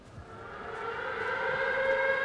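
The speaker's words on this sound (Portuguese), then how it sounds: "A sirene do Silent Hill." The wailing air-raid siren from Silent Hill rises in a long, steady, sustained tone that builds gradually in loudness, with no voices over it.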